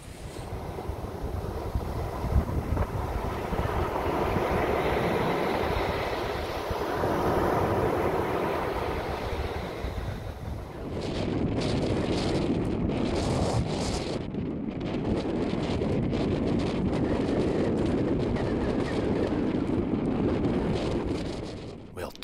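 Strong wind buffets the microphone at an outdoor tent site in a continuous roar, with gusts rising and falling and a rustling, flapping texture throughout.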